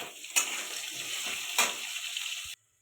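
Curry with green chilli, turmeric and chilli powder sizzling and frying loudly in a pan, a steady crackling hiss with two sharp bursts as it is stirred, then cutting off abruptly into near silence.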